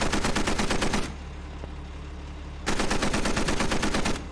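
Automatic gunfire in a military video game operation: two long bursts of rapid, evenly spaced shots, loud and close, separated by a quieter gap of about a second and a half.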